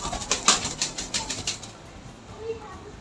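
A large fancy pigeon beating its wings in a loft, a quick run of close flapping bursts in the first half, then quieter background.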